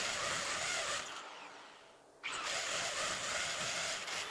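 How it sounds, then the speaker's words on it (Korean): A power drill bores a hole through a bathroom tile wall, a loud continuous whine that stops briefly, then resumes steadily, with no talking. "휴지거리 타공입니다."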